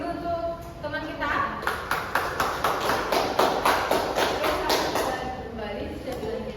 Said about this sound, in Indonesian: kita beri aplaus dulu untuk teman kita